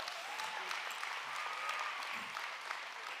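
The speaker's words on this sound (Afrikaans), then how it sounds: "kom ons geef hom 'n lekker hande klap" A church congregation gives a round of applause, heard as a soft, steady wash of many hands clapping at once. It sounds distant and fairly quiet and holds even from start to finish.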